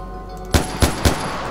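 Three sharp gunshots crack in steady succession over a constant rumbling game background while hunting animals for skins in Far Cry 4, each shot loud and close.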